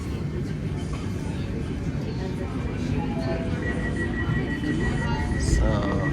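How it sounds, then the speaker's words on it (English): Steady low rumble of a Melbourne suburban train idling at a station platform as its doors close, with continuous ambient rail noise throughout and a person talking over it. "So a few seconds again, train is closing."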